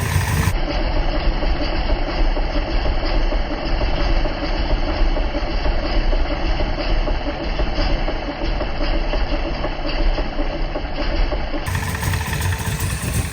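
A 454 Chevy Cobra V8 idles steadily and loudly up close, with a deep, even rumble that runs unbroken from start to finish while the carburetor is being tuned and the engine runs rich.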